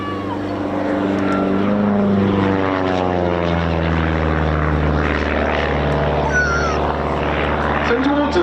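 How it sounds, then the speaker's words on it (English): A very light display aircraft with a 180 horsepower Lycoming engine and a smoke system flies at an RAF East Kirkby airshow, its propeller drone loud and continuous with sweeping pitch shifts as it passes, under a commentator's voice. "180 horsepower Lycoming engine at his disposal. It's a very lightweight aircraft."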